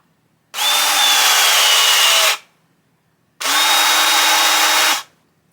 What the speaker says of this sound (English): I'm going to pull the trigger and let the tool rock in my hand.